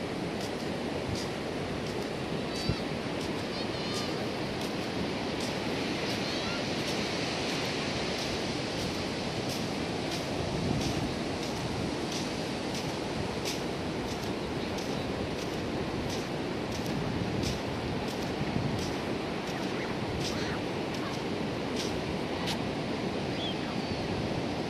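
Ocean surf and wind on Thuy Van Beach in Vung Tau make a steady broad roar, with waves washing continuously and wind buffeting the microphone, no one speaking.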